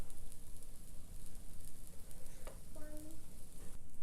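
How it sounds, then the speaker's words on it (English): Buttermilk pancakes cooking on a hot griddle give off a steady close sizzle and frying hiss, with a couple of brief clinks and scrapes midway. "we're going to let these cook here for, I don't know, like 30 seconds, minute or so"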